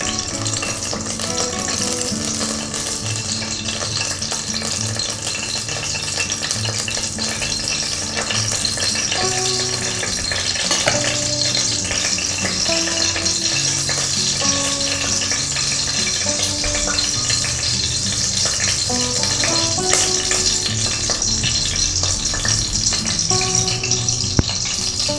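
Oil and ghee crackle and sizzle steadily in a pan while being heated for vegetable biryani, a bright, dense hiss that runs unbroken and close up with no one talking.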